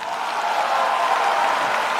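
An audience at the Houphouët-Boigny Prize award ceremony applauds in a steady, dense wash of clapping that holds evenly throughout.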